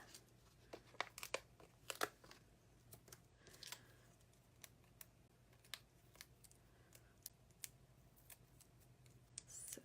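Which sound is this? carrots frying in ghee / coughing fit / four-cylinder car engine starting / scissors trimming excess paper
scissors trimming excess paper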